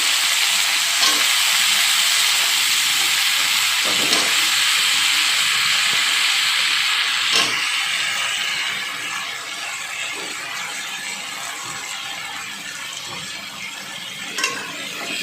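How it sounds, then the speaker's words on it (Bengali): Potatoes and taro frying with onions in a pan give a continuous close sizzle and hiss, with scraping stirs now and then, easing slightly softer partway through. "এবার কেটে রাখা আলু একটা আর তিনশো গ্রাম কচু আলু আর কচুটা একসঙ্গে দিয়ে দিচ্ছি"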